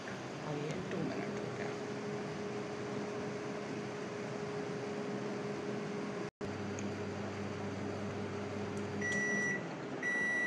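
A DW 560 INV microwave oven runs steadily, heating a bowl of ramen noodles, with a constant low hum and fan noise. A brief dropout occurs midway, and faint beep-like tones sound near the end.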